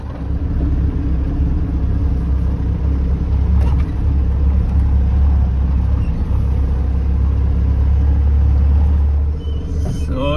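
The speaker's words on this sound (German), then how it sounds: "Ich fahre gerade wieder über ein paar Auswaschungen, jetzt ist es wieder gut." 4x4 vehicle crawling over washouts on a rough mountain track near Tabernas, a loud, steady engine drone and low rumbling from inside the cab, with occasional knocks from the rutted ground.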